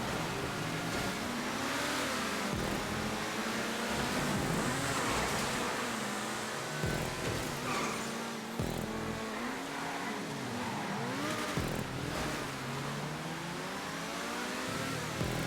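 Ferrari Italia GTB sports car engine revving and accelerating during a GTA 5 race on a high-speed circuit, loud and continuous with repeated rising and falling gear shifts, no talk.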